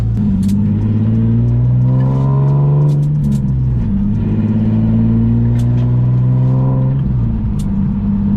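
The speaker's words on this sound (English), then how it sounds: "I feel like I hear an exhaust leak." A turbocharged Nissan 370Z engine with an exhaust leak rumbles steadily up close, revving and falling in pitch in repeated swells, with a rough, raspy edge to the exhaust.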